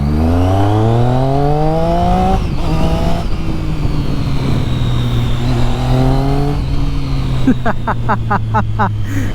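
A Triumph Street Triple 675 with an inline three-cylinder, liquid-cooled engine and an Arrow exhaust revs hard and close. Several rising throttle blips and sustained high revs are followed by rapid crackling pops at the end.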